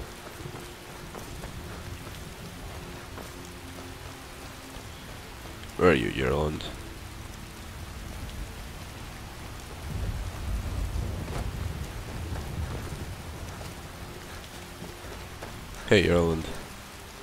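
Steady rain from a thunderstorm in the video game Skyrim, with two sharp thunder cracks and a low rumble in between, under occasional spoken dialogue.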